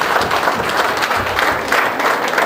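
Church congregation at a child dedication service clapping together in a dense, steady burst of applause throughout, with no talking over it.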